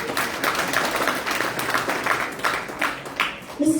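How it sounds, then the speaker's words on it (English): An audience at an awards function for Telugu Raam bhajana singers in South Africa claps continuously, a dense patter of many hands sustained for several seconds at moderate loudness. "So keep clapping."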